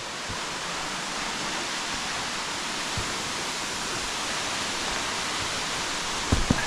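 Waterfall in Istria, Croatia, roars as a steady, broad rush of falling water, close and constant, with a couple of faint knocks near the end.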